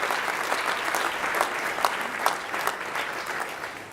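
Guests at an ethnic business awards gala dinner applaud the finalists with a warm, dense round of clapping from a large crowd, sustained and even throughout the four seconds.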